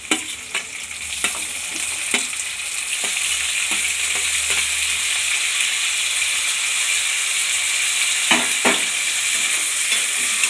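Tomatoes fry in a pan over roasted peanuts, giving a steady soft sizzle throughout, broken by scattered clicks and scrapes of stirring, close and without talk.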